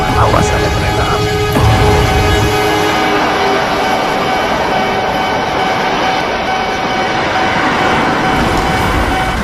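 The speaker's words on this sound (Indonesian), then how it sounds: "Awas ada kereta api" A train thunders past a railway crossing with a loud, continuous roar and rumble, sustained tonal whistling early on, close and heavy for the full stretch.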